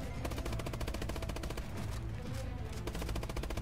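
Rapid automatic gunfire in the video game Advanced Warfare, a dense rattling burst of shots repeating steadily for several seconds, loud and close.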